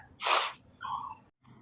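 A person sniffles, with one sharp, loud nasal intake followed by a softer, shorter snuffle, close by and without talk.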